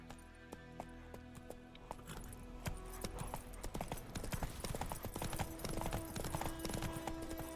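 Roach the horse trots in The Witcher 3, steady clip-clop of hooves building from sparse early steps into a dense, continuous beat with faint tack jingle, no talk over it.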